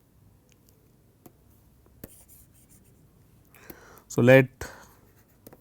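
Chalk or marker writing on a board during a mathematics lecture on nilpotent Lie algebras gives faint, sparse taps and short scratches in a quiet room, followed by a brief spoken phrase.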